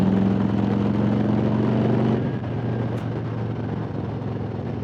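A 2020 Harley-Davidson Road Glide Special with a stage 1 tune rumbles with a deep, steady engine note. It is loud for the first two seconds, then settles into a softer, lower running sound with no talk.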